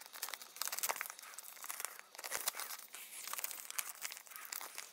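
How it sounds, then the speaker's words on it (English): Paper for an origami tank crinkles and rustles while being folded, a close, soft run of crisp crackles and creases with no voices. "So now you want to fold this here to the outside,"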